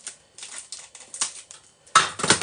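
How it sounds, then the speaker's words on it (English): Caramilk chocolate being chopped with a knife, a series of irregular sharp taps and crunches with a louder cluster toward the end. "I'm chopping up the Caramilk in here."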